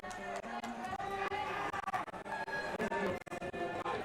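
Spectators at a bouldering competition semi-final in Vail fill the space with a continuous loud crowd din, layered with music and clapping, thick and close throughout.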